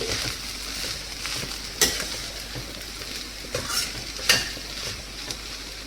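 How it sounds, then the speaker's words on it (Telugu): Ivy gourd slices fry in a pan with a constant gentle sizzle, broken by a few sharp scrapes and clinks of a spatula stirring the pan. "ఆల్మోస్ట్ దొండకాయ అనేది ఫ్రై అయిపోయిందండి"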